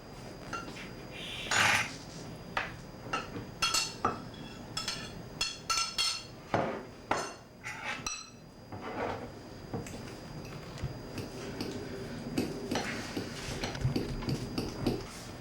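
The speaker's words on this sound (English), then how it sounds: "Remember the 2 carrots that I put in at the beginning? Here they are now, getting mashed up." Cooked carrots for a vegetable soup are mashed in a kitchen, with a series of irregular knocks and clacks of a utensil against a bowl or pot, close, then a softer scraping.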